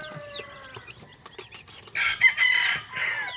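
Chickens and chicks on a small farm make close, scattered clucks and peeps, followed by a louder burst of rooster-like calling in the second half.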